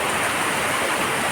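Very heavy rain pours down during a storm in Naic, Cavite, a loud, steady, dense hiss and roar with no let-up and no voices.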